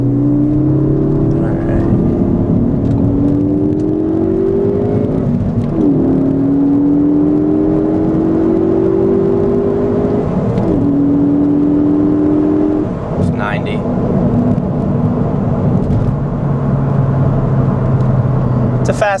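A Ford Focus ST accelerates hard from inside the cabin, its engine droning loudly and climbing steadily through several gear changes, each shift causing a brief dip before the rising pull resumes.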